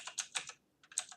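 Typing on a computer keyboard while writing a code query, heard as two close bursts of rapid key clicks separated by a brief pause, near and alone.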